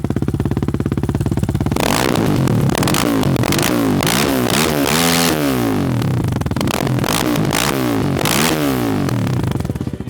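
A BSE J10 motorcycle engine fires up and revs hard several times, loud and close, with rattling mechanical clatter between throttle blips.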